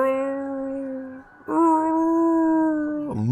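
Several werewolf howls carry through a moonlit forest: one long howl fades, then overlapping howls rise together, sustained and resonant, with a fresh one cutting in at the end.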